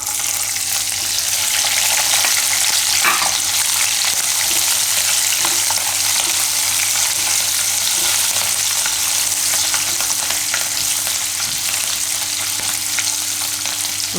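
Cashews and peanuts, with curry leaves and chilies, fry in a pan for a Gujarati tomato poha breakfast, giving a loud, constant close sizzle broken by scraping stirs.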